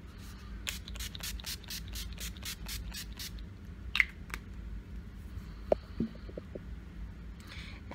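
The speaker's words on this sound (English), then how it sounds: "I'm going to be using the NYX First Base" A series of short, rhythmic bursts of primer spray onto a face, about a dozen quick hisses in a row, followed by faint handling and rubbing sounds in a quiet room.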